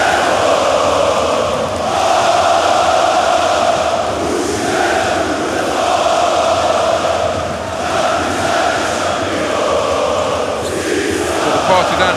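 Partizan basketball fans roar at full volume inside an arena during a fourth-quarter derby against Crvena Zvezda, a dense, unbroken wall of crowd noise with chanting surges and no pauses across the whole stretch.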